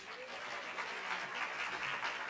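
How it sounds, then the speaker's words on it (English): Brief, steady applause from a summit audience at a G20 Social Summit, a dense wash of clapping throughout. "Again, a good last round of applause, colleagues."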